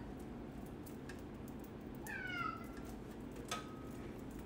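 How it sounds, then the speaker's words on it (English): A house cat lets out a single clear meow midway, with a softer chirp just before it and a brief faint one near the end, heard alone over a low room hum amid occasional faint clicks of computer parts being handled. "I don't know why the cat is making so much noise"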